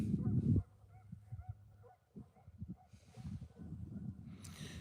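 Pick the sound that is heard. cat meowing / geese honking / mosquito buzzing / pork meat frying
geese honking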